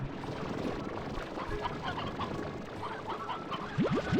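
Chickens cluck in the video game Slime Rancher 2, a busy cluster of fowl calls over steady ranch ambience, with a few sharper rising calls near the end.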